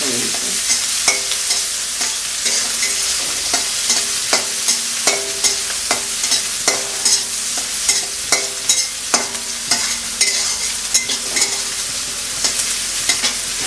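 Country chicken fries with a little ground spice for chicken kosha, stirred again and again in a pan. A continuous loud sizzle carries sharp, regular scrapes of the spoon against the pan, close and steady for about fourteen seconds.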